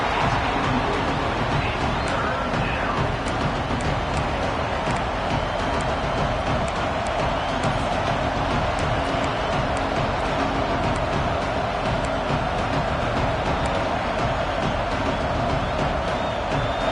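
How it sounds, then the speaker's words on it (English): Crowd noise at a college football game between Ole Miss and Florida on third down, a loud, dense, unbroken roar filling the stadium from start to finish with no gaps. "This crowd unhinged, trying to make sure the Gators don't back down on third down."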